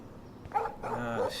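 A dog in the video game Life is Strange gives two short, close barks in quick succession, the second slightly longer and more drawn out, over quiet background ambience.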